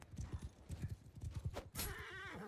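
Galloping horse hooves in the online medieval combat game Bannerlord, a quick rhythmic run of clip-clop beats up close, ending in a brief whinny with battle noise behind.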